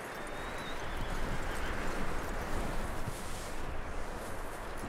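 Horse in Red Dead Redemption 2 with a dense, steady wash of hoofbeats and snorting noise, a faint whinny layered within a continuous broadband rush, moderately loud with no talk.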